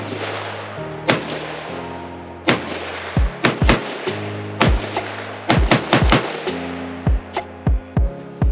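A self-built rifle is fired at a shooting session, and sharp, loud reports crack out more than a dozen times at irregular intervals over a steady low hum.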